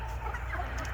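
Backyard chickens cluck softly for a brief moment at a moderate distance, with no talking.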